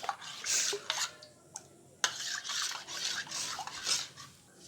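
Pudding batter is stirred in a bowl, with close, uneven scraping and swishing strokes broken by a sharp clink, and no talking.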